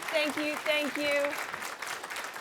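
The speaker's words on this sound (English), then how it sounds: "Everyone else, give them a round of applause." Conference attendees applaud the volunteers, a soft, diffuse wash of clapping from the crowd, with a voice speaking over the start.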